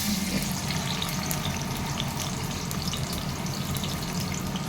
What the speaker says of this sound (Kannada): ಈಗ ಎಣ್ಣೆ ಮತ್ತು ತುಪ್ಪ ಬಿಸಿ ಆಗಿದೆ. ಈಗ ನಾನು ಈರುಳ್ಳಿ ಹಾಕ್ಕೊಳ್ತೀನಿ.